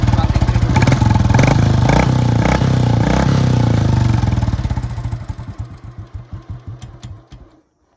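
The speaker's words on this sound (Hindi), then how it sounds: "तो इस तरीके का आवाज़ करता है भाई, बड़ा प्यारा साइलेंसर है।" A Royal Enfield Classic 350 motorcycle with its stock silencer idles with a rhythmic, thumping exhaust beat, then is switched off and sputters down through slowing pulses into silence.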